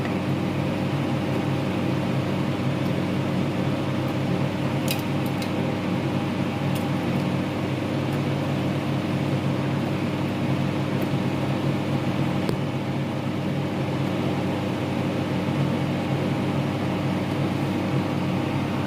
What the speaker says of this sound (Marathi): आता सर्वात पहिले आपल्याला मिक्सरला टाकून घ्यायची काप आणि मस्त बारीक करून घ्यायचे